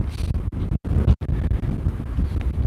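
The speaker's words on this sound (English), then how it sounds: "It's really windy here today." Strong outdoor wind buffets the microphone in a continuous loud roar with low rumble, broken by two brief sharp dropouts where the gusts are blocked.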